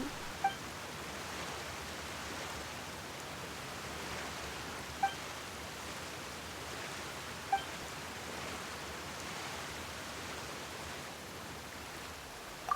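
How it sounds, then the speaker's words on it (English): Rain falls steadily in the video game Genshin Impact, a soft even hiss of drops that continues throughout, with a few faint clicks at regular intervals and no voices. "Why is it raining all of a sudden?"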